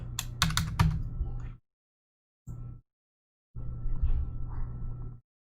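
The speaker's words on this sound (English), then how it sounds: "let's type in 105" A number being typed on a computer keyboard, with close, quick key taps in three separate bursts split by short silences.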